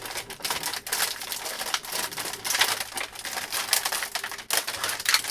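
Resealable plastic packaging for Oreo cookies is pulled open and handled, giving a continuous close crinkling and crackling with sharp rustling bursts and no talk.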